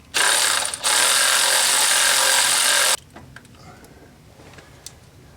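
A ratchet works 11 mm nuts on a Ford F150's 300 cubic inch inline six, sounding as a loud, close burst of rapid ratcheting for about three seconds with a brief break, then a few quieter clicks and taps.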